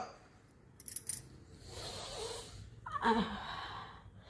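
Breathing through one nostril while the other is pressed shut, as a breathing exercise: a wheezy nasal inhale and a sharper sniff near the end, up close and alone.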